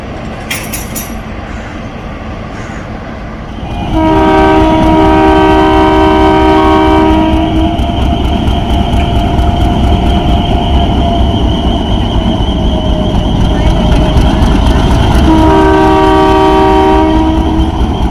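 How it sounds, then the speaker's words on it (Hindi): The 11 Up Hazara Express pulls out of Mandra railway station in Pakistan with a steady loud rumble of rolling stock. Its multi-tone horn sounds twice, a long blast early on and another near the end. "4:41 पर 11 अप हज़ारा एक्सप्रेस निकल रही है यहाँ से।"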